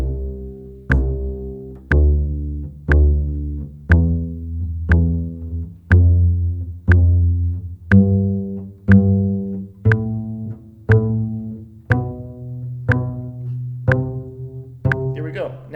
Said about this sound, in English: So first pizz, quarter notes, 2 per note.